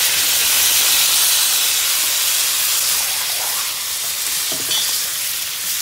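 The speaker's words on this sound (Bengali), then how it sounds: "এবার আমি একটু জল দিয়ে দিচ্ছি।" Water hits spice paste frying with pointed gourd in a pan, a loud hissing sizzle and steam that holds strong and then eases slightly, with no talk.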